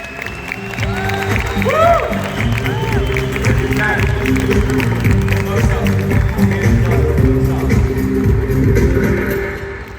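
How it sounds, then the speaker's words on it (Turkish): An audience at a vision day event applauds and cheers throughout, dense steady clapping with crowd noise and some voices over it, loud and continuous. "Simen Hoca'na büyük bir alkış."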